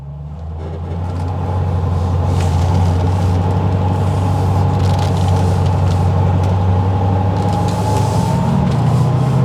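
A 2005 Mustang Saleen engine under acceleration while driving, a loud steady low rumble from inside the car that builds over the first seconds and holds throughout, with no talking.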